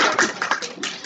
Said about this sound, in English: let's clap